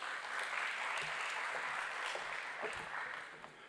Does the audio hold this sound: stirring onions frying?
no